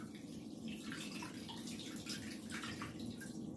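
Cold tap water pouring steadily into a pot holding a brisket, a continuous even splashing rush without voices.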